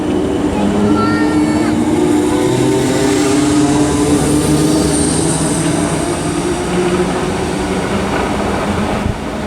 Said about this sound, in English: the part now is going to be the 1213 service from Woking to London Waterloo